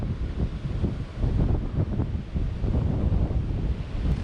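Sea wind blowing in off the water at a beach on Flores island, Indonesia: a continuous loud, rough low roar with pulsing gusts that buffet close by, steady from start to finish with no voices.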